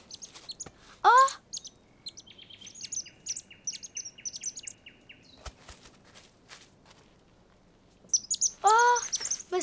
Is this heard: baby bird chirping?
yes